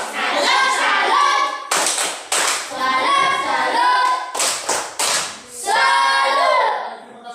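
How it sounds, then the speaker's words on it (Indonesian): A class of students claps in a rhythmic cheer pattern after a solar cooker experiment, loud close bursts of hand claps broken by brief pauses, with voices chanting along. "tepuk salut"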